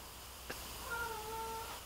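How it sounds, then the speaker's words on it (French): A cat meows once in the background of a room, a drawn-out tonal cry lasting about a second after a short click, faint and heard alone without speech. "Désolée pour mon chat qui crie derrière."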